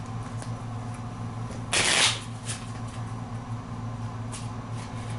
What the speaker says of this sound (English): we have to shuffle the villain trash into the villain deck. So let's go ahead and do that real quick.